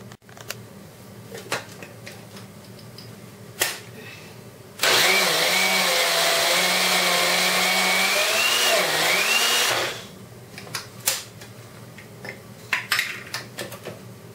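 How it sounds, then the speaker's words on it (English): A wet grinder churns soaked rice and dal into idli batter, starting abruptly with a loud steady whir and wobbling drone that runs about five seconds and then cuts off, with clinks of utensils before and after. "Now we grind second batch, remaining half of the rice."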